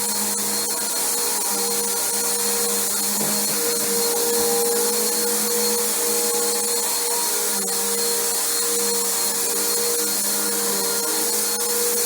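A Bissell Powerforce bagged upright vacuum cleaning dirt out of carpet, its motor holding a loud, steady high whine with a constant airflow rush throughout, close by and uninterrupted.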